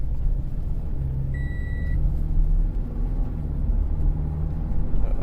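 Short electronic chime beep inside a 2015 Scion FR-S 2.0 with a lean bank 1 fault, heard once, clear and close above a low steady engine idle rumble.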